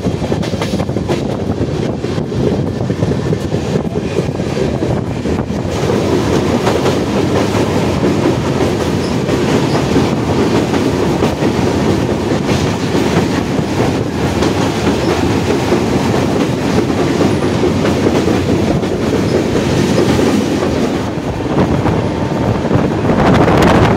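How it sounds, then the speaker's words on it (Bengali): The Kanchankanya Express rolls slowly through jungle in the Buxa Tiger Reserve, a loud continuous rumble with rhythmic wheel clatter and wind buffeting the microphone throughout. "ট্রেন জঙ্গলের ভিতর থেকে যখনই যাচ্ছে খুব ধীর গতিতে যাচ্ছে"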